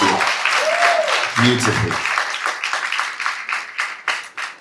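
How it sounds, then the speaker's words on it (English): Audience applause for a speaker at a Kenyan diaspora event, a sustained wash of clapping from a large crowd that thins toward the end, with a host's brief spoken words over it. "Please, one more time, a round of applause for Kia Wakesho"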